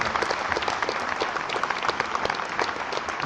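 Hearty applause from a hall audience at a launch event, a dense continuous patter of many hands with individual crisp claps poking through, evenly sustained and moderately loud.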